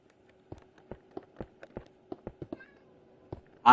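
Cat meowing in the video game Minecraft, a series of short soft mews repeated in an irregular rhythm, fairly quiet and alone, ending with a brief louder burst.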